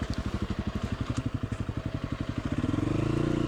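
Husky 350 dirt bike working up the rough, rocky Rubicon trail, its single-cylinder engine chugging in fast rhythmic pulses, then rising into a steadier, louder revving drone near the end.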